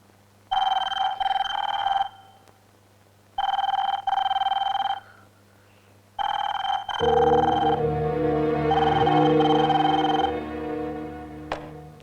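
A telephone rings in repeated bursts with pauses between, then a steadier tone joins and holds, fairly loud and close with no talking.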